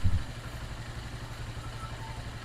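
A motorcycle engine runs steadily as a generator, a faint, even idle with a light mechanical patter after a brief louder bump at the start.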